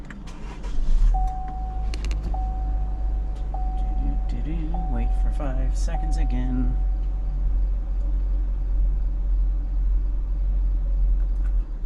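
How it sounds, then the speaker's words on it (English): A 2019 Buick Encore engine starts and settles into a steady low idle rumble, with a repeated electronic chime ringing several times and a person speaking briefly near the start. "Start the car."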